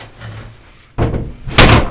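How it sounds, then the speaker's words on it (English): A door slams shut inside a cramped shop room, giving two sharp, close thuds about half a second apart after a quiet lead-in. "The door shut."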